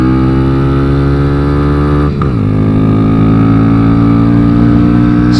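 A Kawasaki Z125 track bike engine hums steadily up close, then its pitch dips sharply midway as the rider shifts into second gear and settles into a lower, continuous drone.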